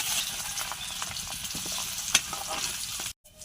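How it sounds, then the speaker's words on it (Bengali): Whole cumin seeds crackle and sizzle in hot oil left over from frying new potatoes, a steady close spitting hiss with a few sharper pops, cut off abruptly near the end. "আলু ভাজা তেলেই গোটা জিরে দিয়ে দেওয়া হলো।"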